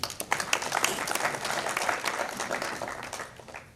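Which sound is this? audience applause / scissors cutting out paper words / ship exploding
audience applause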